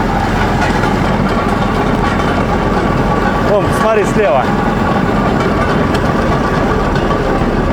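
A rail vehicle riding along a forgotten narrow-gauge forest railway with heavy rails, giving a continuous loud rumbling engine and track drone throughout, with a person speaking briefly over it.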